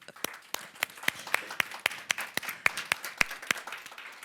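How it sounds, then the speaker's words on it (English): A small audience gives scattered, fairly quiet applause at the end of a panel session on tax, with individual claps ringing out unevenly for a few seconds. "and we should end with an applause"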